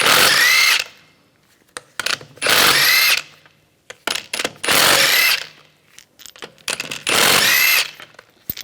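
An impact-style power tool with a 17mm socket spins lug bolts out of a 2010-2014 Volkswagen GTI wheel in four loud, near bursts about a second each, separated by clicks and handling noises.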